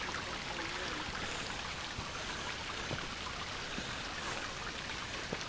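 Water rushes and trickles continuously down a cliff at Upper Emerald Pool in Zion National Park, a soft, even splashing flow with occasional drips, fairly faint and without voices.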